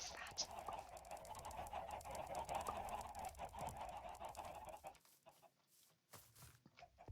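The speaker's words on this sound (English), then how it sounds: "Why are there so many chickens? There's too many chickens." A crowd of chickens clucks continuously in a Minecraft-style survival game, busy, overlapping fowl noises at moderate loudness, then thinning out near the end with a few sharp clicks.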